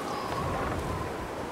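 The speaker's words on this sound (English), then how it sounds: "it's not cool, but it's fucking windy." Steady roaring wind in The Long Dark video game, a broad continuous rush with no pauses, heard briefly and alone.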